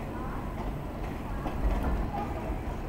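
A train pulls into Khurda Road junction station in Odisha with a steady low rumble and rolling rail noise throughout, fairly loud and continuous.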